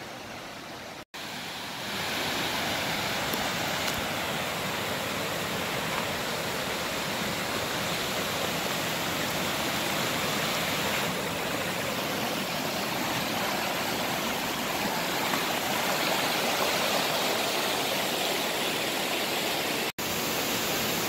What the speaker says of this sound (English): This is the Iao stream.